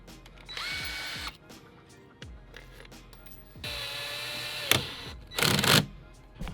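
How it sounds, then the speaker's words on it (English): A power drill drills holes to mount a Mugen lip on a Civic Type-R, several short whirring bursts of varying length separated by pauses, with a harsher, louder final burst, and no talking. "So we're gonna drill this in, make sure everything's all good."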